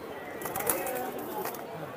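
Pigeons coo softly and a few birds call at a busy pigeon market in Khalishpur, Khulna, heard briefly beneath someone talking nearby.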